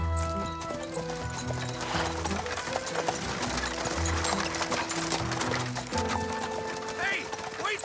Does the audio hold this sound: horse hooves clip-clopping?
yes